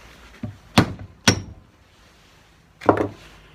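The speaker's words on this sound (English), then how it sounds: "Soft blow mallet." A soft blow mallet strikes lacquered parts of a Fill Rite pump under restoration, giving a faint tap and then three dull, close thuds spaced unevenly, with quiet gaps between.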